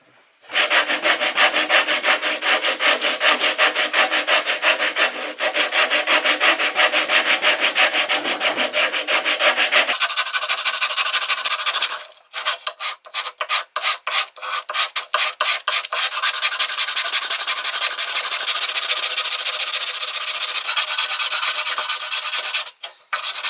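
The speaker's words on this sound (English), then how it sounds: "I'm just going to use a bit of sandpaper." Sandpaper rubbed by hand over a carved wooden swimbait fishing lure, a loud, close, continuous raspy scratching in long strokes, with a brief run of short choppy strokes midway before the steady sanding resumes.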